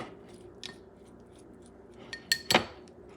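Chimichurri rojo of red peppers or roasted pepper, cilantro and parsley being stirred in a bowl, faint scrapes and a few sharp utensil clinks against the bowl near the end, close and quiet, no talking.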